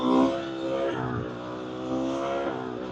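A motorcycle engine revving on a mountain road pass, a close, rough drone that rises and falls in pitch across a few seconds.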